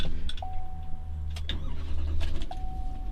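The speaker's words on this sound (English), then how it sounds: "So let's start the truck up." A dump truck engine cranking and catching, a steady low rumble with short mechanical clicks and a thin electronic tone beeping twice, close by and without speech.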